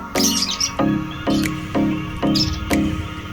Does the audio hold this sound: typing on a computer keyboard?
no